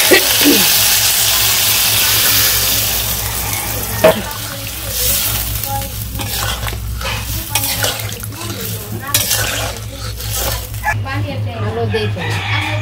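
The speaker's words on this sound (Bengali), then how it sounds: "মাংসটা কষানো হয়ে গেছে গা আমি জল দিয়ে দিই" Water poured onto braised meat in a hot pan, a loud hiss and bubbling burst that settles into steady frying with stirring clatter while someone talks over it.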